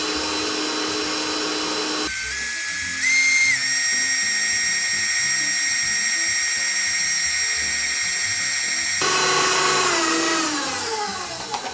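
A high-speed electric mixer whips meringue, its steady motor whine rising in pitch as the speed jumps to high. It runs continuously and close up, with no talking.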